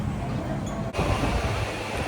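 A Hong Kong train runs above ground, giving a steady, close, continuous rumble of wheels and carriage noise throughout, with no voices.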